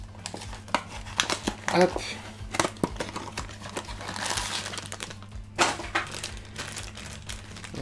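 Crinkling and tearing of packaging as a Funko Christmas box is opened and unwrapped, with rustling bursts and crackles throughout, a steady low hum underneath and a voice speaking over it.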